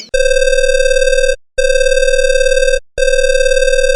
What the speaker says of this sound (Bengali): হঠাৎ কে যেন ফোন করলো